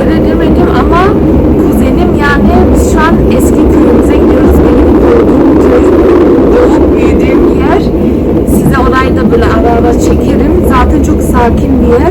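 Inside a moving train, a steady low rumble and running noise fill the whole stretch, with someone talking over it and occasional faint squeaks above.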